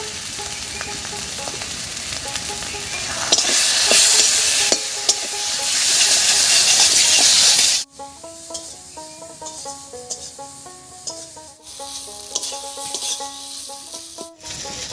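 Flat beans (sim) frying in a pan over a spice tempering with salt and turmeric, loud hissing sizzle with stirring scrapes that suddenly drops to a softer, steadier fry.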